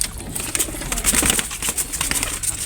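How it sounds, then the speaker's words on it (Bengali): A male pigeon coos in a cage, a close, fairly loud run of repeated throaty coos with some wing rustling, with no one speaking. "যখন একটা নর কবুতর খাঁচার মধ্যে দিবেন তখন সে উড়া দূরে ডাকবে"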